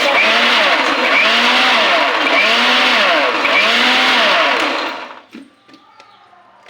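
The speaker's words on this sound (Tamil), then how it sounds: "அடுத்தது அரைக்க போகிறோம்" A loud electric mixer grinder grinding cardamom whirs steadily with a pulsing, rising-and-falling motor tone, then cuts off, leaving faint clatter and handling sounds.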